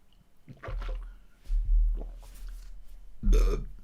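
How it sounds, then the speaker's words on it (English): A few low, rumbling burps come in separate bursts, close to the microphone, with no speech. "I actually hate burping"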